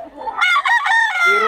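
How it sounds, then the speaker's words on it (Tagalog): A rooster crows loudly and close by, a single harmonic crow rising and holding for about a second, with no talk over it. "Yan, si Tatay Tony, maraming manok lagi yan."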